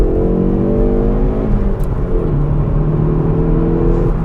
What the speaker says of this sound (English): the exhaust note has got character to it